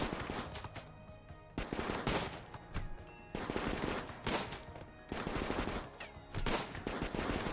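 Dense RimWorld gunfire in a heavily modded tribal playthrough: repeated machine-gun bursts and overlapping shots fire almost continuously from a defensive position against an attacking raid, loud and close with brief lulls between volleys.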